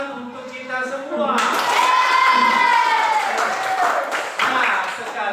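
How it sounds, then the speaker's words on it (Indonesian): An audience applauds at a school presentation session, a sustained wash of clapping with some children's voices, steady and fairly loud for several seconds, while a voice carries on over it. "Sekali lagi tepuk tangan untuk kita semua."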